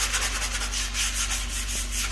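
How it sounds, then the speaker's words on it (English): Steady, close abrasive rasping of sanding on a John Deere 4020 tractor part under restoration, continuous rhythmic back-and-forth strokes with no talking. "Rob's just sanding this,"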